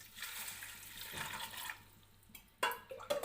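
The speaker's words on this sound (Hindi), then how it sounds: "अब मैं ये वाले 3 डब्बे इसके अंदर पानी के डालूंगी।" Water pours and splashes steadily from containers into a cooking pot for beef pulao, fading briefly before a few sharper clinks and splashes near the end.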